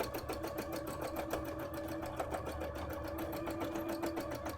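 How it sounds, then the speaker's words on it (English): A sewing machine stitches fabric for a handmade Uzumaki-style bra, its needle running in a fast, steady, close-up rhythm with no talking. "it's very difficult to sew in it."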